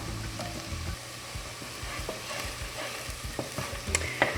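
Onions for French onion soup caramelizing in a pan, a soft steady sizzle broken by scattered stirring clicks and scrapes, close and with no talk.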